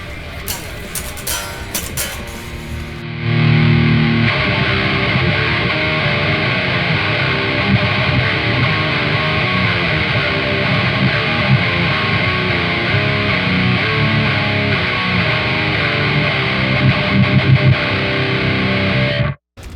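An electric guitar plays through a GE250 amp with distortion into a US Gold 4x12 cabinet, loud sustained distorted chords and riffs lasting most of the stretch after a brief quieter start.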